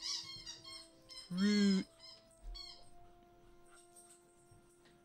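A pet dog indoors gives a loud, whiny whimper that rises and falls, then makes softer grumbling and whining sounds nearby while a person speaks briefly during a board game.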